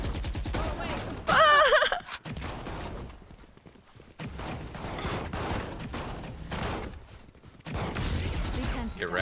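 Shotgun fire from the Judge in the video game Valorant comes as loud, punchy bursts mixed with game effects, while a player reacts with exclamations and talk over the shooting.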